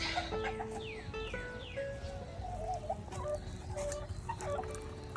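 Backyard chickens clucking close by, a series of short rising and falling calls and soft chatter over a low outdoor background.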